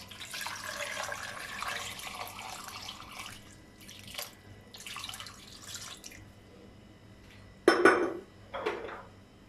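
Water pours and splashes into a metal pot in a few bursts, about 2 to 2.5 glasses for mutton pulao, with clinks of cookware and a sharper splash near the end.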